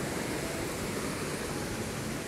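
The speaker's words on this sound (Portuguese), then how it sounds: "Essa é a Cachoeira das Antas" The Cachoeira das Antas waterfall in Bocaina de Minas, Brazil, gives a steady, dense roar of falling water, broadband and unbroken, heard alone without voices.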